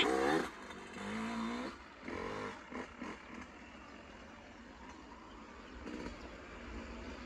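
A motorcycle engine revs under quick throttle blips during technical riding practice on a training course, a loud rising roar at the start and then brief surges and a lower running drone.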